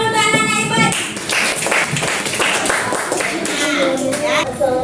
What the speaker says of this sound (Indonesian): Tepuk tangan dulu untuk anak-anak ibu